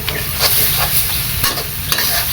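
Chopped fish is mashed and stirred in a hot pot for a curry. A spoon scrapes and pushes in a repeated rhythm over a steady sizzle, close and loud, with no talking.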